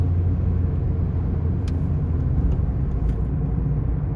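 A 1.2 VW Polo with 117,000 miles cruises along with a steady, low engine and road rumble heard from inside, constant and fairly loud, with a couple of faint ticks.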